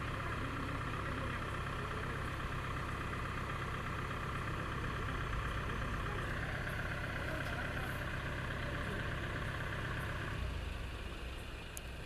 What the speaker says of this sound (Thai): กำลังรถไถมาลากขึ้น